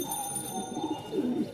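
Pigeons kept for sale at a bird market in Mirpur-1, Dhaka, coo softly and close by in a few short rolling phrases, with no talk over them.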